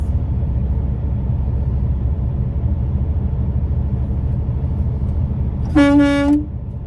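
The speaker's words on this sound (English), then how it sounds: "Let's hit those horns, boys." A loud, harmonic horn blast from a truck in a convoy, sounding for about a second near the end over a steady rumble of engines and road noise.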